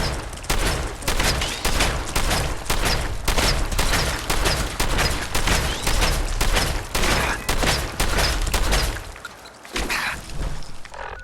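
A shotgun in the video game Fallout 4 fires in rapid repeated blasts, around twenty loud sharp bangs in a steady fast rhythm, then a brief pause before a final few shots.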